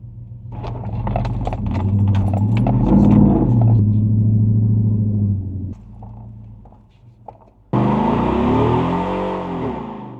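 A Hemi V8 truck engine revs while off-roading: a deep, close rumble rises and falls, idles quietly for a moment, then bursts into a loud, sustained rev.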